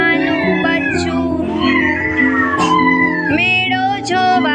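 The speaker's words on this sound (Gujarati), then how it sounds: "બિલાડીનું નાનું બચ્ચું" A kitten's meow rings out in a children's song, a high, drawn-out tone over a bright musical backing.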